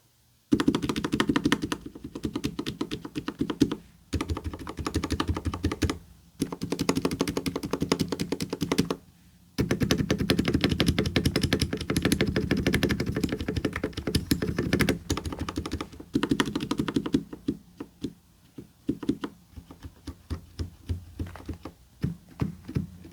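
A Vissles V84 mechanical keyboard with plate-mounted stabilizers is typed on in rapid, close, thocky bursts, stopping for brief pauses between runs and thinning to sparser keystrokes near the end.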